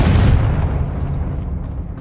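A heavy fiery blast from the Confringo spell in Hogwarts Legacy, a loud boom at the start that decays into a rumbling tail, with no speech over it.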